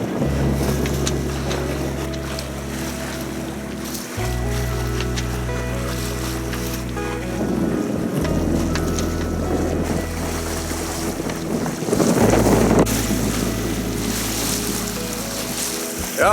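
A sailboat moving through the channel between Lopud island and the Croatian mainland at about 5.3 knots on a beam reach, with steady wind buffeting the microphone and water rushing along the hull, continuous and fairly loud.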